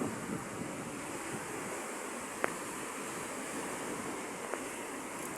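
Steady sea waves wash along a wide shoreline, a continuous broadband surf roar mixed with wind noise on the microphone, with a couple of faint sharp clicks standing out.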